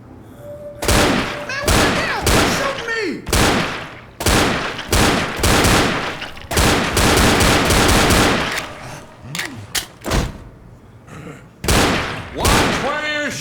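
Gunfire in the Xbox 360 game Left 4 Dead: loud, rapid bursts of automatic fire and single shots repeating throughout, close and punchy, with voices talking between the volleys.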